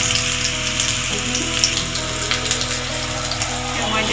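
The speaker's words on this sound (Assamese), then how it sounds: "মিডিয়াম ফ্লেমত 3 মিনিটমান ফ্ৰাই কৰি আছোঁ।" Pieces of pointed gourd fry in hot oil over a medium flame, a steady crackling sizzle with small pops and a low hum underneath, close and continuous for the whole span.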